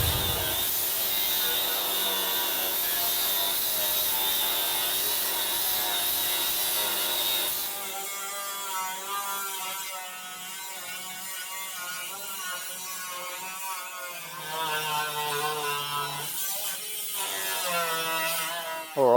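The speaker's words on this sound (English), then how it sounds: "this thing's been absolutely bellowing out the sand as I've been cutting through the outer face of the sill panel" Steel outer sill panel of a Holden Kingswood being cut with a tool, a continuous harsh grinding rasp that shifts in pitch and pressure as the cut progresses, close and loud with no talk.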